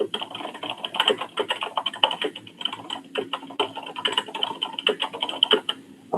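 Rapid, irregular clicking of keys on a computer keyboard at a board meeting, close and steady for several seconds with no talk over it.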